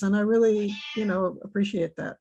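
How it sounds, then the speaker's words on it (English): A pet cat lets out a long, loud meow at close range while a person speaks over and after it. "That's my cat."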